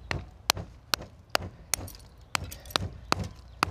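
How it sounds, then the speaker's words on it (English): A hammer taps a glass wine bottle set in concrete and wrapped in towels, giving about a dozen sharp, close clinks in a fairly steady rhythm. "Use the towels and then tap it with a hammer."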